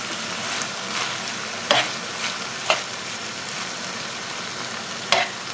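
Spoon stirring thick crème fraîche and liquid cream into a pan of shrimp pasta with garlic and herbs: a steady soft sizzle broken by three sharp scraping strokes against the pan, close by, with no talk.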